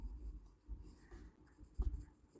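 A pen or pencil writes answers onto a math exam paper, giving soft close scratching strokes in short irregular bursts.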